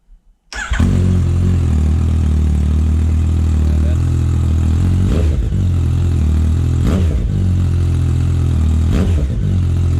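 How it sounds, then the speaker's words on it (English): A Yamaha MT-09 fitted with an Akrapovic titanium exhaust, its baffle removed, starts up and idles loud and deep, with several sharp throttle blips rising from a steady rumble, close by with no talking. "when you remove the baffle, it's probably going to be too loud."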